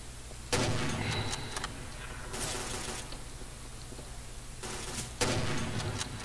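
Tommy gun fire in the Garry's Mod video game: three loud, sharp bursts of rapid automatic shots, separated by quieter stretches, close and alone with no talk.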